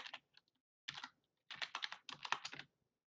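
Fingers tap a password on a computer keyboard in a quiet room, a few isolated keystrokes followed by two quick bursts of rapid typing, close and clear, with no talking.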